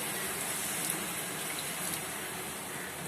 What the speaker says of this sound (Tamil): நாம இது கொஞ்சம் தண்ணி ஊற்றிக்கலாம்.